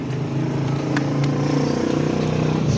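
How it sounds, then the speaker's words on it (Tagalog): A motorcycle engine drones steadily nearby in an outdoor neighbourhood setting, its tone shifting slightly as it moves past, moderately loud with no talk over it. "Yan yung motor."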